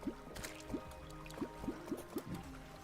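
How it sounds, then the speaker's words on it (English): Honey poured into water in the Terraria video game, heard as a run of short, liquid blips and drips repeating every half second or so over a steady low game backdrop, fairly quiet. "Now we're putting some honey in the water."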